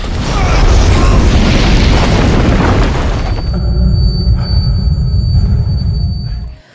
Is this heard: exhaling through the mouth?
no